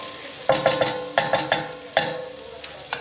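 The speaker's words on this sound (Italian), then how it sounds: "Facciamo un soffritto un po' carichino con aglio e un rinforzino di" Garlic soffritto stirred in a cooking pot, with a utensil scraping and clinking against the metal in irregular bursts over a steady close sizzle of frying oil; no talking.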